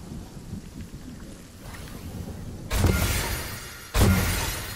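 Heavy rain hisses steadily in the Fortnite video game storm, broken by two loud, sharp thunder cracks that each roll off slowly.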